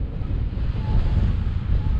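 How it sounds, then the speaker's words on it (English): Strong wind buffets the microphone on open Scottish hills in the Southern Uplands, a loud, continuous low roar with rumbling gusts and no voices. "But that wind is vicious."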